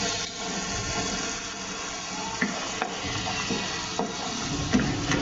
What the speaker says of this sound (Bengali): এই তো এবার এই মশলাটাও খুব ভালোভাবে কষাতে হবে।